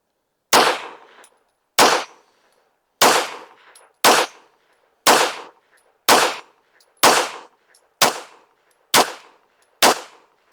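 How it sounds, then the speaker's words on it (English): Rifle fitted with a Gideon Optics Mediator scope firing about ten sharp, loud shots at an outdoor range, evenly spaced roughly a second apart, each crack trailing off in a brief echo. "These are the first shots of the day."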